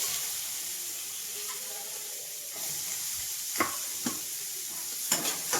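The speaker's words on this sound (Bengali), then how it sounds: "এই যে পেঁয়াজ কেটে দিয়ে দিলাম দিয়ে খুব সুন্দর করে আমি নেড়ে ছেড়ে একটু ভাজা ভাজা করে নেব" Chopped onion frying in a little oil with bay leaf and whole cumin in a pan, a steady soft sizzle under occasional sharp scrapes of a spatula stirring, close and moderately quiet.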